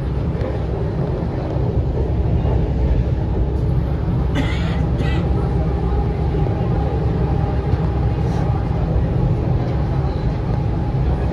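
Steady low rumble and rattling of a moving, crowded train carriage, continuous throughout, with faint voices murmuring in the background.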